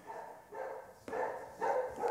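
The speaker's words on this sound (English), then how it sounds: "dog." A dog barks at a package arrival in a home sewing room, giving a series of muffled, moderately loud barks in an uneven rhythm, seemingly from another room.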